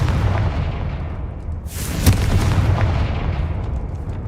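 A Confringo explosive spell goes off in Hogwarts Legacy, one sharp, loud blast that cuts through the ongoing game soundscape and then trails into a rumbling tail.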